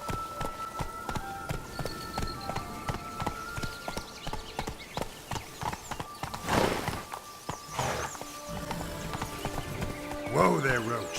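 Hooves of Roach, the horse in The Witcher 3, clip-clop at a walking pace on the ground, with a brief neigh and voices talking over the steps.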